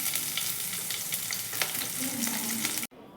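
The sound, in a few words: garlic and chili frying in hot oil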